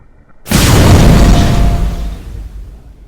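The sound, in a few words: explosion clip played in reverse in a video editor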